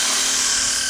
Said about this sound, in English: we're essentially giving it one final sand